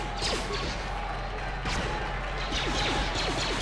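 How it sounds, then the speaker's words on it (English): A concussion grenade goes off in the video game Knights of the Old Republic: several sharp crashing bursts with whooshing tails over a constant low game hum. "Another concussion grenade, please."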